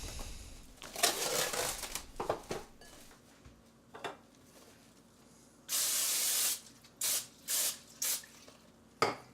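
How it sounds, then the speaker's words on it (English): Pam cooking spray hisses onto a sheet of plastic wrap meant to cover a bowl of pizza dough, several short close bursts separated by soft rustling and handling sounds, with no talking. "And I'll spray one side of it with Pam and apply it right on top of the dough."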